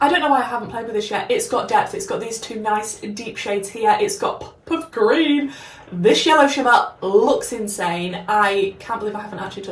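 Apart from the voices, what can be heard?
No distinct noise like a dog, phone or traffic.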